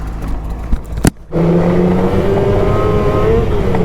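An old hot rod's engine, running in 19-degree cold with light snow falling, cranks with a sharp click and then catches into a loud, steady close-up idle with a throaty low rumble.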